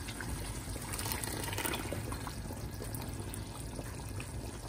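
Ground guajillo chile pours into a pot of turkey mole, a continuous close liquid gush and splatter, steady and even throughout with no talk.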